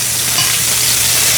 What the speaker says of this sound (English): We're going to baste one more time before I pull the fish out